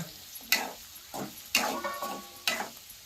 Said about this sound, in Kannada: ಒಂದು ಎರಡು ನಿಮಿಷ ಇದನ್ನು ಫ್ರೈ ಮಾಡಾಕೆ ಬಿಡ್ಬೇಕ್ರಿ